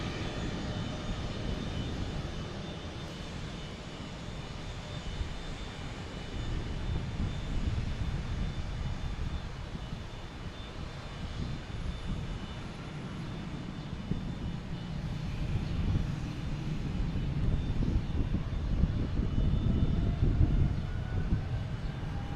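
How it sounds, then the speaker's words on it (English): A Delta Boeing 737-800 jet airliner at Boston Logan Airport gives a steady, fairly distant engine roar that swells slightly toward the end, continuous with no talk. "We got Delta heading to Fort Lauderdale at 737-800."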